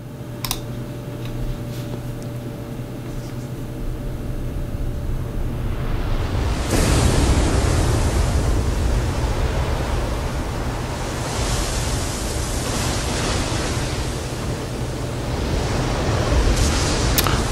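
Ocean waves in the Frozen 2 trailer, a broad rushing surf that swells sharply partway through and stays loud and dense, with crashing surges near the end.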